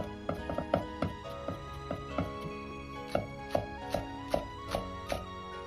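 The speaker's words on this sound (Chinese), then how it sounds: "生姜1块先拍破，再切碎。" A knife chops a piece of crushed ginger on a cutting board, giving about a dozen crisp, evenly spaced chops that sound fairly close, over a quiet steady background hum.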